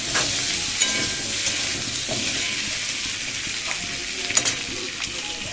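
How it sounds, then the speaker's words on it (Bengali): Eggplant slices seasoned with turmeric, salt and chilli powder fry in hot oil, giving a steady close sizzle with occasional stirring clicks and no talking. "আর এখানে হলুদ, নুন আর একটু লঙ্কার গুঁড়ো দিয়ে বেগুনগুলো ভেজে নেব"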